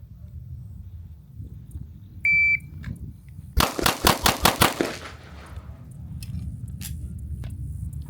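Gunshots at an outdoor shooting range: a rapid string of about seven sharp, loud, evenly spaced reports in quick succession after a short electronic beep, over low ambient rumble.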